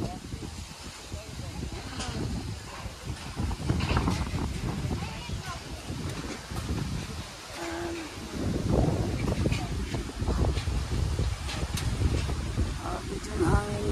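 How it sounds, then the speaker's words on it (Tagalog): Strong gusts of wind roar and buffet the microphone during a storm, a constant heavy rushing noise with rising and falling surges, while people talk underneath. "Ito yung hangin guys, ang lakas."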